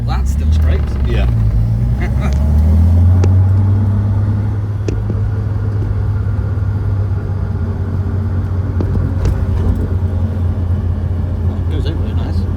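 A Reliant Scimitar fitted with new coilovers rumbles along on a test drive, its engine drone low and steady from inside the cabin, with occasional bumps and rattles while people talk over it.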